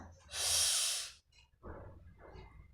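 A single long, deep breath during guided meditation, drawn in as a loud, close rush of air lasting about a second, followed by quieter breathy and murmured sounds.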